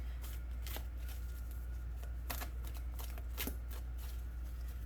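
Oracle cards from a Spirit Guide deck shuffled by hand in a quiet room, a steady papery riffle with several sharper flurries of card snaps, close and alone with no talking.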